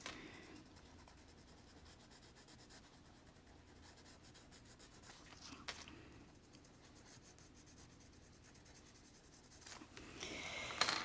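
A pencil shades paper with circular strokes during a drawing lesson, making a faint, steady, close-up rubbing and scratching that continues throughout with small variations in pressure.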